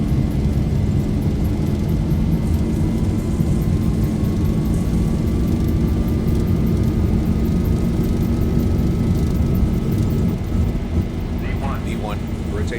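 A Boeing 737 jet rolls down the runway for takeoff in the X-Plane 11 flight sim, with realtime weather: a loud, steady engine roar and rumble carrying throughout, with a rising whine tone building across the run.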